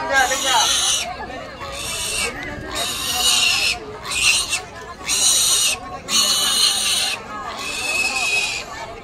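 A pig squeals in repeated loud, shrill bursts, about seven in a row, with people talking and murmuring underneath.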